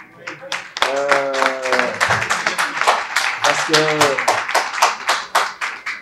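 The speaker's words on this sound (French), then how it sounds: "qu'elle soit vraiment applaudie." Audience clapping at a Senegalese political gathering, loud distinct rhythmic claps repeating steadily, with someone speaking over them in two short bursts.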